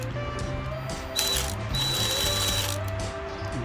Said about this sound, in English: let's put a worm clamp on here to hold it